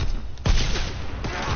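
A single sharp, loud sniper rifle shot in a WW2 video game cracks close by, followed by a fainter second report amid steady game noise.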